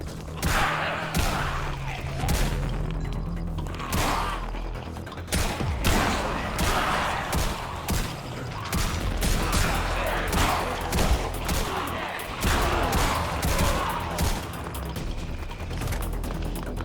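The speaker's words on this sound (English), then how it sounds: "This shotgun is insane, dude." Shotgun fire in the heavily modded Minecraft pack Deceased Craft during a zombie horde fight, with repeated sharp blasts in quick succession over a steady background rumble and clatter.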